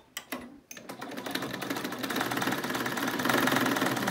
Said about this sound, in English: So now let me sew it